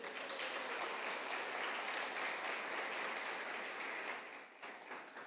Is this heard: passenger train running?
no